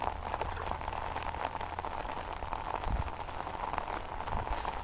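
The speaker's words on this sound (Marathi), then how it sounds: "पाऊस पडते खूप पाणी आहे" Dense, steady patter of heavy rain hitting surfaces, a constant hiss with scattered drops, no voices.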